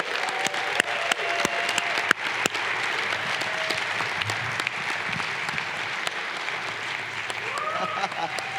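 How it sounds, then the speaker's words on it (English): An audience applauds and cheers steadily for Tony Fadell at a Michigan event, a dense wash of clapping with a few sharper claps poking through and scattered voices under it. "Let's cheer really loud for Tony Fadell."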